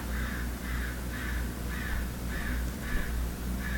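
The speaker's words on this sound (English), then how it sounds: "Can you hear that crow?" A crow caws repeatedly in a steady series of about seven harsh calls spaced roughly half a second apart, outdoors after rain with a low steady background hum.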